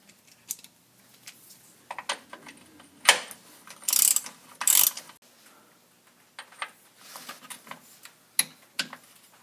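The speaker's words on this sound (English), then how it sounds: "These, you want to torque to 20 foot-pounds." Ratcheting clicks from a torque wrench tightening aluminum transfer case bolts on a Jeep YJ, coming in short irregular bursts with pauses, close and fairly quiet, with no voices.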